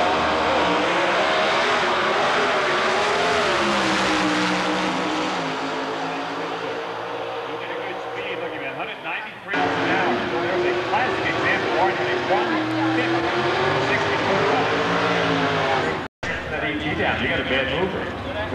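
Pro Stock drag race cars, including an Oldsmobile, at Maple Grove Raceway's NHRA event, a loud sustained engine roar with shifting pitch and a sudden cut near the end. A commentator talks over it throughout.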